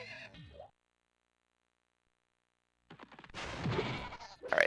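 Sheep bleating in the Spyro 2 video game, a couple of short game-audio bursts at the start and end, separated by a long silent gap, fairly close and clear with no talk over it.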